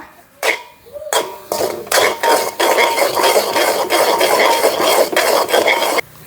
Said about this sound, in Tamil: அதையும் கிண்டுவோம் வடிவா